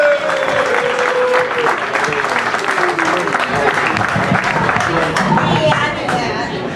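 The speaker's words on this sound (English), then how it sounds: "Let's give a round of applause to James Anderson." An audience applauds for James Anderson at a Virginia Tech coaching event, with dense, sustained clapping and crowd noise, some cheering and babble of voices throughout.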